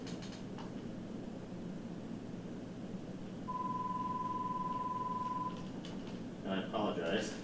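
A single steady electronic tone sounds for about two seconds, like a phone ringing, over a low background hum with faint clatter near the end.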